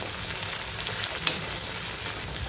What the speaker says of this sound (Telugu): ఒక కప్పు పచ్చి బఠానీలు వేసుకోవాలి ఇవి బాగా ఆయిల్లో వేయించుకోవాలి